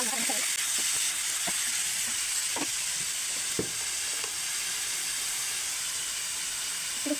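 Chicken liver fries in a hot pan with a constant bright sizzling hiss, broken by a few sharp spatula taps and scrapes, heard close.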